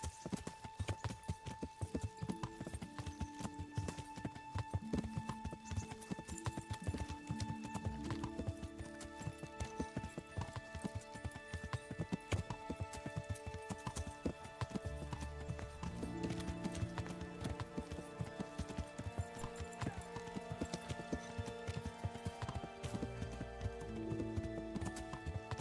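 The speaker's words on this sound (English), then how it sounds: "Learn how to ride a horse" Quiet clip-clop of a horse's hooves galloping and trotting in Kingdom Come: Deliverance, a steady run of hoofbeats under game music with no talking.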